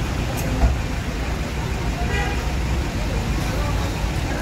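A Limbersa intercity bus at a busy Palembang terminal idles amid steady traffic rumble and distant crowd babble, a low continuous engine drone with a brief horn-like toot near the start.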